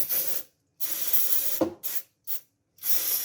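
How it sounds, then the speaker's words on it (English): Contact cleaner sprays onto an IBM ThinkCentre computer motherboard in four or five separate close hissing bursts of varying length, broken by silent pauses, with a faint mechanical click between them. "So I'm just going to give this a good spray,"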